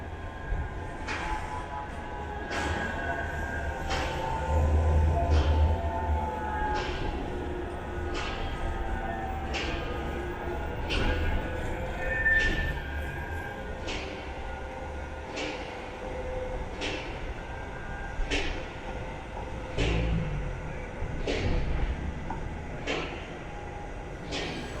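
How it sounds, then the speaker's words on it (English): A Manchester Metrolink tram at Victoria stop rumbles past with a low, steady rolling drone. Regular clacks like wheels crossing rail joints come through at a moderate distance, and no one speaks. "Here's the tram about to exit Victoria."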